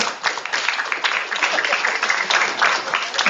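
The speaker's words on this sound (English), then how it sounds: "Please give a nice round of applause for Tomas Maglonia" An audience at a Law Week proclamation ceremony applauds. The clapping is even and sustained and sounds bright but thin, like a distant room captured through a narrow-band stream.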